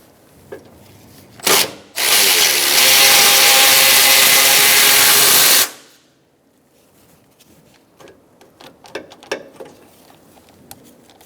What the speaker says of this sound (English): Using a short 13mm socket, I'm going to take out this nut